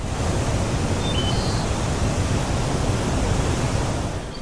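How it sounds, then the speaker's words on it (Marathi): Bhambavli Vajrai waterfall near Satara, surrounded by dense forest, roars in a steady, loud broadband rush of falling water with no voices. "घनदाट जंगलाने वेढलेला हा धबधबा 12ही महिने वाहतो"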